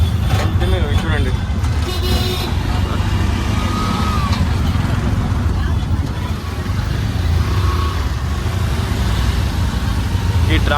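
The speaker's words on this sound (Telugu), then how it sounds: "చాలా ట్రాఫిక్ ఉంది ఫ్రెండ్స్." Dense road traffic in Bangalore passes around an auto rickshaw, with a constant drone of car, truck and motorbike engines close by and a loud, unbroken rumble. A person talks over the noise.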